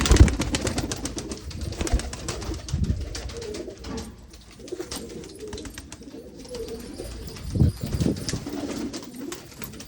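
Golden pigeons kept for breeding coo in soft, repeated low phrases, several birds overlapping at close range amid light rustling and occasional thumps.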